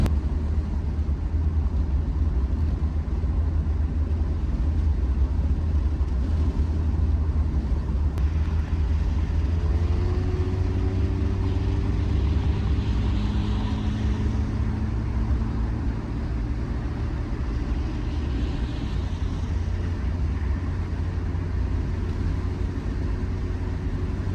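A Volvo 240 on Bilstein shocks cruising while towing a trailer, giving a steady low engine and road rumble inside the car with a faint rising whine midway, continuous and even.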